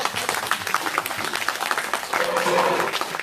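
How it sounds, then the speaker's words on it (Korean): A crowd at an outdoor anti-THAAD Wednesday rally in Soseong-ri claps in a dense burst, and a voice carries over the applause near the end. "좋은 말 할 땐 박수를 쳐주세요."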